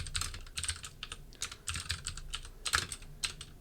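Quiet, close computer-keyboard typing runs in quick irregular bursts of key clicks with short pauses as code is entered; no talking.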